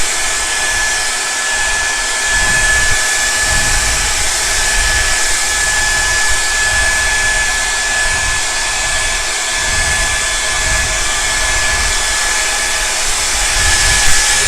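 A hair dryer blows warm air onto a beard to straighten it: a loud, steady, close whooshing roar with a constant motor whine, running unbroken throughout with slight shifts as the airflow moves.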